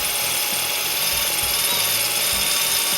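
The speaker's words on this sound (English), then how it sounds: "When you're drilling this granite, I can use hammer action, but even without hammer action," A drill with a Bad Dog multi-purpose bit bores into granite tile, giving a steady, loud, gritty whine of power-tool grinding that holds without a break for the whole stretch.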